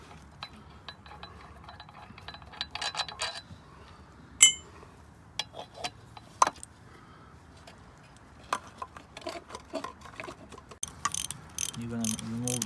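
A ratchet wrench clicks in short runs and metal tools clink while bolts are taken off a GMC Sierra power steering pump, with sharp metallic taps scattered over a quiet garage background.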